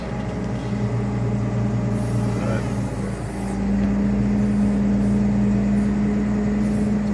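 A John Deere 772 CH motor grader works steadily while cutting a ditch, its diesel engine droning loud and close with a strong low hum that deepens and steadies midway through; no talk over it.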